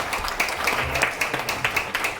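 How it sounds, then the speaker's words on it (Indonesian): Audience applause at a community education session in an office, a steady patter of clapping with brief louder bursts, moderately close and continuous. "Tepuk tangan buat Anda semua."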